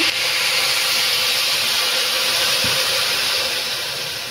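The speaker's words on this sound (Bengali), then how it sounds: "এখন আমি গুড়টা দিয়ে দিচ্ছি, একটু জল দিয়ে দিচ্ছি" Jaggery and a splash of water going into a hot pan for sesame laddu, producing a loud, steady broadband sizzle and hiss that holds for over four seconds, with one brief knock partway through.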